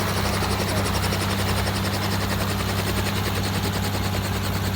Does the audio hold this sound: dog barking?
no